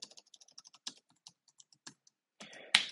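Quick bursts of keystrokes on a computer keyboard entering a job title, light close clicks in irregular runs with short pauses, ending in a louder flurry of keys; no one speaks.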